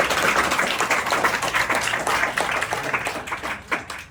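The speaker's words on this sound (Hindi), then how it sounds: "जबरदस्त तालियां।" Audience at a legal awareness program in an institute hall applauding: dense, sustained clapping that stays loud throughout and tapers slightly at the end.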